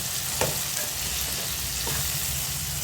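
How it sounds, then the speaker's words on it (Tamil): Brinjal and drumstick sauté with onion and tomato in a pan, giving a steady close sizzle with occasional stirring scrapes, no talk. "இந்த கத்திரிக்காய் முருங்கைக்காயும் நல்லா சேர்ந்து நல்லா வதங்குது"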